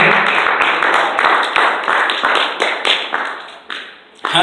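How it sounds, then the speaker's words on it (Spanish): A church congregation claps together in a steady stream of overlapping handclaps, loud and close, pausing briefly near the end before resuming. "Dale una ofrenda de palmas a Dios en esta hora."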